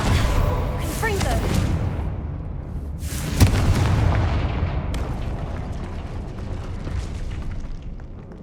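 Fiery Confringo blasting spell explosions in the Hogwarts Legacy video game, two loud booming bursts with a sharp crack between them and a long rumbling decay, under game music and a brief spoken line.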